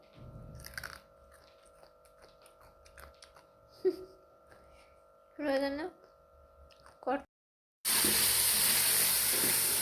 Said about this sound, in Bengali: গুড়গুলো একটু ভেজে নিচ্ছি